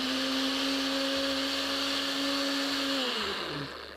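A blender whirs steadily as it purées a small tomato sauce for patatas bravas, a loud continuous motor drone that holds for about three seconds and then winds down as it is switched off.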